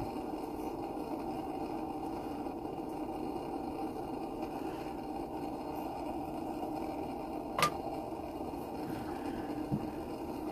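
A Rogers M1950 military burner running low on fuel, giving a steady low roar and hiss that carries on throughout, with one sharp pop partway through.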